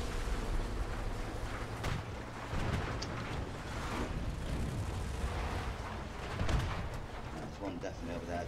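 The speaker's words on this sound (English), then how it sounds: "This anti-air gun is a beast." Anti-air gun firing during a War Thunder battle, a dense, steady roar of rapid booming shots with rumbling low end, sustained throughout with a few heavier bursts, under occasional talk.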